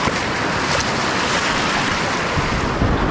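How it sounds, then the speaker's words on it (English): Waves rolling onto the Lake Superior shore at a winter campsite, a steady close wash of surf mixed with gusty wind noise across the microphone, no voices. "look at this, the waves are still coming in"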